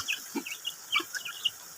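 Chickens feeding on coconut, giving soft clucks and short chirps scattered across a quiet, close background with no talking.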